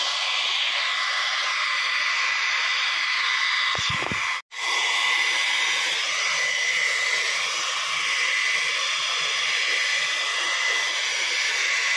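A household hair dryer runs loud and close with a steady whooshing roar, briefly interrupted by a short dropout and a click midway before carrying on unchanged.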